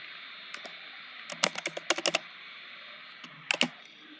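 Keys tapped on a computer keyboard while entering text in a design app, two bursts of quick close clicks over a steady room hiss, with a short pause between them.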